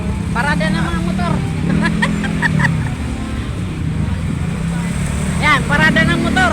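Motorcycle parade rolling past after a religious procession, engines droning and revving steadily close by with continuous road noise, while people talk over it.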